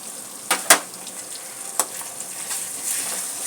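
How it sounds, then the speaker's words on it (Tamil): A paste of ginger, garlic and onion sautés in a pan, giving a soft continuous sizzle broken by a few sharp clicks of a spoon against the pan early on, close up with nobody speaking. "நல்லா பச்சை வாசனை போகிற மாதிரி நல்லா வதக்கணும்."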